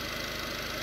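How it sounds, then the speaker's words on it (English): A VW 1.6 TDI CAYC diesel engine idling roughly while cold, with a steady, dense mechanical clatter and diesel knock, close and constant with no voices. "you're certainly going to get diesel knock, a little bit of diesel knock, particularly when cold. The engine's going to be very rough"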